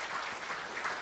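An audience at a Norwegian video game conference claps in brief, steady applause at moderate distance, a dense wash of hand claps with no voices.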